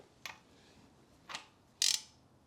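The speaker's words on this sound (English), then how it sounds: "that was a tensioner setting. Yeah. The click, click, click." Three separate sharp clicks from an SR20DET engine's timing belt tensioner as the engine is turned over by hand, spaced about a second apart, with the last click loudest.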